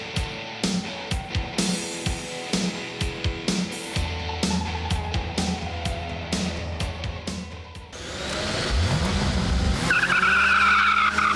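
A modified Mazda MX-5 Miata, with springs swapped front to back and nearly double the horsepower, revs through a string of rhythmic bursts, then its tires squeal in long skids, loud and close.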